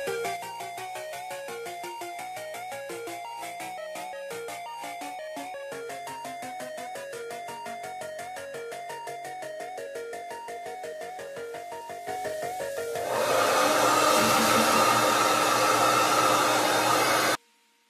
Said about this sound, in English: Blowing it with cold air, I don't have any protection